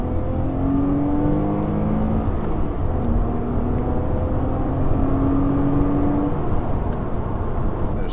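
A Porsche Cayman with about 33k miles drives steadily from inside the cabin, a continuous engine drone with rising tones as it accelerates through the gears, no talking.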